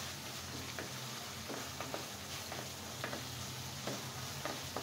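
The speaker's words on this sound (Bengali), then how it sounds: "যতক্ষণ না মশলাটা সুন্দর কষানো হয় ততক্ষণ আমি এটাকে কষাতেই থাকবো।" Spices sautéing in oil for fish pulao with cauliflower make a steady close sizzle, with occasional scraping stirs and small ticks; no talking.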